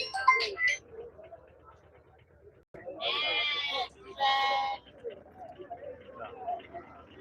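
Goats and young kids bleat at a Friday livestock market in Ettayapuram, Thoothukudi, two loud, drawn-out calls close by, with scattered fainter bleats and crowd murmur around them.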